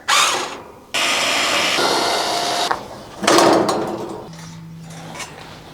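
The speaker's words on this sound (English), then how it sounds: "I'm using an 8mm socket bit. Take out all the screws to take out the cover." A power driver fitted with an 8mm socket bit backs screws out of an air conditioner's cover, giving several close, loud bursts of mechanical whirring and rattling separated by short pauses.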